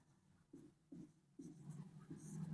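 Pen or marker writing on a surface during a Harappan civilization history lesson, short scratchy strokes in three or four bursts, close and fairly faint.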